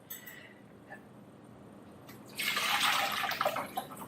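Cream poured into a ham and cheese potato bake, a liquid splashing and gurgling that swells loud for the last couple of seconds after a quiet start.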